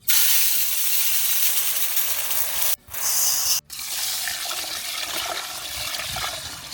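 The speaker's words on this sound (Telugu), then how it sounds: "రెండు కేజీలు బియ్యాన్ని శుభ్రం కడిగేసుకుంటున్నాం" Two kilos of rice get washed outdoors during a friends' Arabian-style cooking session in a farm field, with steady rushing, splashing water broken by two short pauses.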